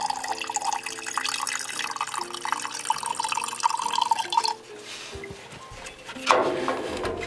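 Oil is purged from an oil line into a can during a car tune-up, a steady pouring and splashing stream close by that thins out and ends with a brief metallic clatter.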